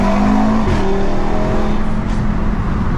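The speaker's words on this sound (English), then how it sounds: "Gear shifts are really smooth, so this car is running stage 2 gearbox software by MRC Tuning Scotland" Stage 2 tuned Audi RS3 with stage 2 gearbox software driving at night, a loud close engine drone from inside the car with a quick gear shift as the pitch drops, no voices.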